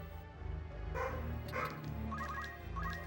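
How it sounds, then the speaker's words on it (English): Excited puppies in the Final Fantasy Tactics game, several short yips and barks in quick bursts over a low musical backdrop. "Puppies are very excited."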